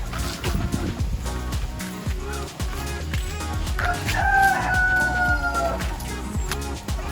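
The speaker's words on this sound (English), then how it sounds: "Chickens. Look at that one down there." Chickens cluck and a rooster crows over a busy, noisy outdoor background in Thailand, with a steady low rumble throughout.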